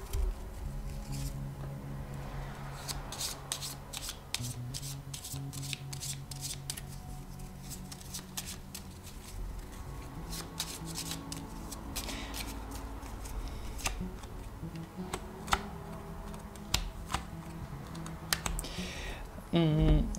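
Sibyl oracle cards shuffled by hand during a tarot-style reading, a long run of quick papery riffles and taps with a low hum beneath and a louder handling sound at the end.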